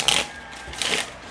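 A deck of tarot cards gets shuffled in a few quick, close riffling bursts, soft papery flutters with brief pauses between them.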